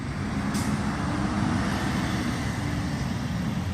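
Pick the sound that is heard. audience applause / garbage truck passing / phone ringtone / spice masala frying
garbage truck passing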